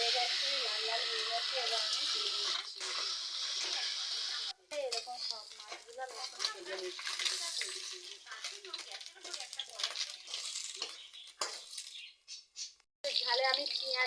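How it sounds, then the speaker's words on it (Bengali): Onion paste masala frying in a pan for a river fish curry gives a steady, bright sizzle with a few brief breaks, heard under a person talking for most of the stretch. "মশলাটা ভালো করে ভেজে নিচ্ছি"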